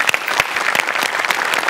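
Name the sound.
loud applause for a performer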